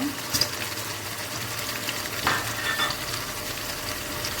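Liver bhuna curry being stirred in a pan after cumin powder and garam masala go in, a continuous close sizzle with scraping spoon strokes and a couple of louder clinks.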